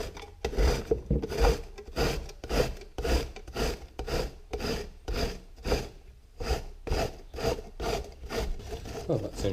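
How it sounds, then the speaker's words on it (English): A pear rubbed against a grater in steady, rhythmic rasping strokes, each scrape a short gritty burst repeating about once per second, close and fairly loud, with no talking. "Really don't know what the best way to actually grate a pear is though"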